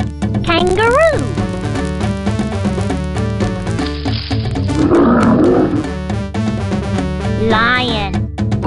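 Lion roar sound effect in the 1994 Windows 3.1 typing game for kids, a loud rolling roar over looping game music, with a voice speaking briefly.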